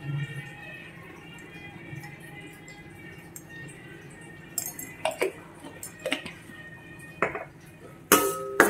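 Cashews and cardamom powder being stirred into sweet kesari in a cooking pan, with scattered clinks and scrapes of a spoon against the metal, sparse at first and then quicker and louder toward the end.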